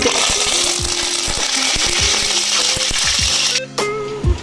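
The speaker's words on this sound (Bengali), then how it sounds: "কারি পাতাগুলো ভাজা হয়ে গেছে।" Curry leaves fry in hot oil for a crisp Bengali potato dish, giving a steady, loud sizzling hiss with scattered crackles and pops throughout, then a brief dip before the frying noise returns.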